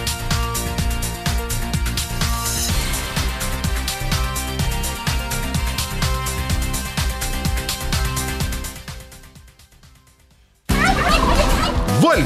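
Turkeys gobble over a busy music bed in a Texaco radio commercial, with a steady, dense mix that fades almost to nothing before a loud burst comes back in.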